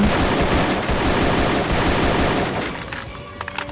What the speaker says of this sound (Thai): เอเคลั่นหัวไปที สวยสองหัว